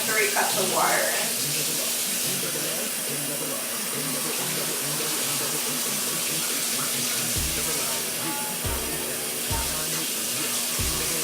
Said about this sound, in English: Then turn the water on.